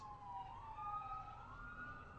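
An emergency vehicle siren wails steadily, its pitch rising and falling, sounding somewhat distant over low road rumble, near a fire closure area in Mendocino National Forest.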